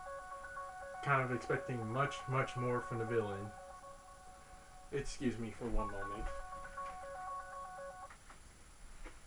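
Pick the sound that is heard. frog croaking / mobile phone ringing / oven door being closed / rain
mobile phone ringing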